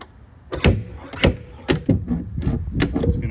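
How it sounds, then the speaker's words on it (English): Door of a 2011 Chevrolet Malibu being worked in and out, a series of sharp metallic clunks and rattles about every half second, close and loud with nothing else heard. "See how the door's starting to move back out."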